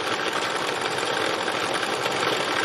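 A sewing machine stitches a textile landscape, its steady rapid mechanical whirr running loud and continuous throughout, close by with no talking.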